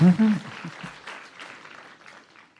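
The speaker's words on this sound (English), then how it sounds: "So let's give them another round of applause." Audience applause rings out, loud at first and then fading into a steady patter of clapping that slowly dies away.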